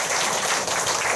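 Audience clapping at a political party workshop, a steady dense wash of many hands kept up through the whole short moment, close and fairly loud with no voices over it.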